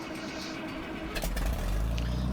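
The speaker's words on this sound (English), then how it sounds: "There's the tractor I'm gonna get on." John Deere 460 tractor engine in Farming Simulator 19, a steady low rumble that swells louder partway through as the engine picks up, with no talk over it.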